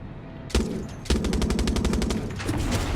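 Rapid automatic gunfire from a gun being tested in the video game Far Cry 6, a sharp opening shot then a fast, steady burst of close, loud rounds lasting about two seconds.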